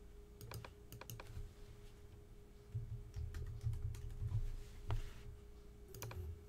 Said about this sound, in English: I'm going to type in the word coffee.